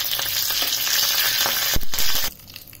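Mustard seeds and curry leaves sizzle and crackle in hot oil for a tadka over coconut chutney, with steady loud frying hiss, a few sharp pops near the end, then the sizzle suddenly drops away.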